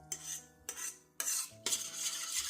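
Yogurt being stirred into pancake batter in a bowl, a utensil scraping and clinking against the sides in four distinct bursts of close, moderately loud stirring with short pauses between.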